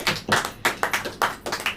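A church congregation claps hands in a series of sharp, fairly loud bursts, roughly six or seven close beats in quick rhythm with no talking over them.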